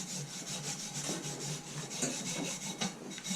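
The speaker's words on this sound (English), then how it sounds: "You just take a little wire brush," A small wire brush scrubs packed debris off the silencer of a 2016 Yamaha YZ85 dirt bike, making close, steady, raspy strokes that repeat in a quick rhythm with no talking.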